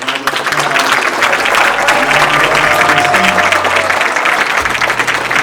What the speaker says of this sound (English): let's give all of these men a round of applause